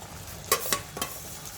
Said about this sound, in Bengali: এবার এই মালাই বা ক্রিমটা আমি খুব স্লো আঁচে দিয়ে দেবো তেলের মধ্যে